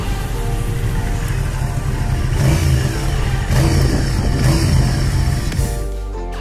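An Aprilia Dorsoduro 750 motorcycle's V-twin engine revving loudly up close, rising and falling through a couple of throttle blips before dropping back toward idle.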